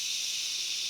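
A steady, breathy hiss made by a voice imitating rain, held evenly for about a second with no other sound.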